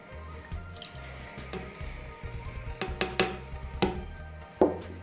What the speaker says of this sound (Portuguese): Eu tenho aqui na panela já o açúcar, tá aparecendo a quantidade aí para vocês. Vou acrescentar o leite.